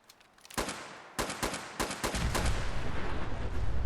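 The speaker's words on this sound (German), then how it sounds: "So, ihr wollt Explosionen sehen?" Explosions and gunfire in the Fallout 4 video game, with the Automatron DLC at Croup Manor: sharp blasts burst in one after another, then a dense rumbling barrage of shots and booms keeps building to the end.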